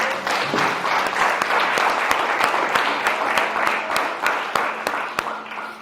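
A church congregation applauds steadily throughout a sermon service, a dense patter of clapping with a few sharp individual claps standing out, loud and sustained.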